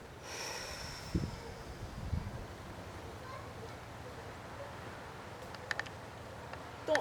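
Slow, soft breaths drawn in and let out during a qi gong exercise, close and quiet, with a couple of sharper snort-like nasal bursts early on and a low hiss throughout.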